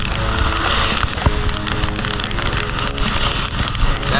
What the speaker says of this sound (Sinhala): දැන් වැස්ස පොඩ්ඩක් අඩු කරා.